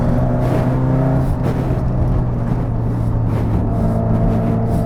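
A car engine roars steadily and loudly while driving the PDE layout of the DCTC Driving Range race track, with a constant dense drone and no pauses throughout.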